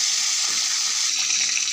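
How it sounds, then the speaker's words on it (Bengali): Boal fish frying in hot oil, giving a dense, steady hiss of sizzling and spattering that stays loud and close throughout, with no voices. "খুব এই বোয়াল মাছ অনেকটাই ফাটে, দেখো বাবা, ভয় লাগে।"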